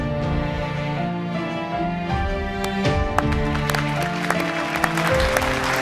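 An audience applauds with steady, dense clapping throughout, mixed under prominent tonal music in a Punjabi film scene honoring a woman's courage.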